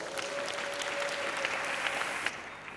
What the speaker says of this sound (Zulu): Sicela simshayele ihlombe.